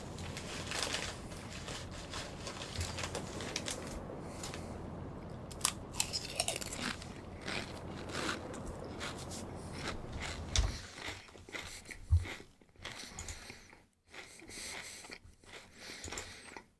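A late-night snack is munched close to the microphone in crunchy bites and steady chewing, with faint mechanical clicks and whirs from a submarine video game in the background.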